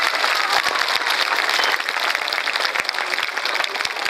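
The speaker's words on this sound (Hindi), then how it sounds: "और जोरदार तालियां।" Loud, dense audience applause at a children's school event, many hands clapping steadily and continuously throughout with a slight dip midway.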